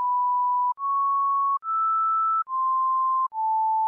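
A clean electronic tone plays a slow melody of five sustained notes, each held under a second, stepping up and then back down, with no other sound.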